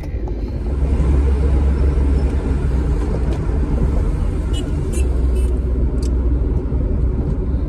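Steady rumbling road traffic on a morning drive near Jammu, a car's engine and tyre noise droning continuously up close with a few faint higher clicks over the top.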